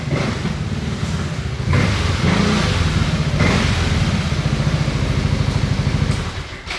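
A Suzuki Raider Pro motorcycle is ridden home along the road, its mid-pitched engine running steadily close by and rising in revs as it accelerates, mixed with the rush of wind.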